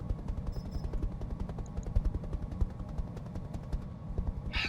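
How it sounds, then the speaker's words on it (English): Machine guns firing in the mech strategy game Roguetech, a dense rapid rattle of continuous automatic bursts with faint sharper pops, steady and close with no talk. "We also get the machine guns."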